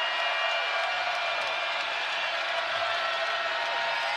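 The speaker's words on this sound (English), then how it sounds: "And the crowd here in Dallas starting to cheer louder" Basketball crowd cheering in a Dallas arena at an NCAA college game, a broad, steady wash of crowd noise and scattered clapping, fairly even in loudness throughout.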